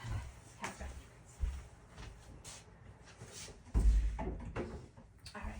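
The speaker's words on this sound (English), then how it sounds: "I just closed my door." Household door thudding shut indoors, a heavy low bump near the middle among faint handling clicks and knocks in a quiet room.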